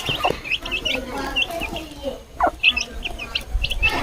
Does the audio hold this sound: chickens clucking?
yes